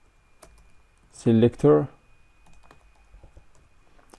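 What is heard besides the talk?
typing on a computer keyboard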